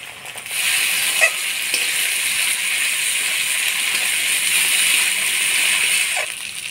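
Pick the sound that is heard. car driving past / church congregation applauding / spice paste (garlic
spice paste (garlic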